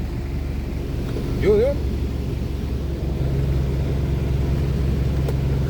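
Road traffic hums by in a steady low rumble from cars and engines, close and continuous, with someone speaking briefly over it.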